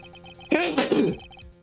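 A single loud, voiced sneeze from a character in the Ace Attorney Investigations video game bursts out mid-clip, framed by soft repeating game tones before and after.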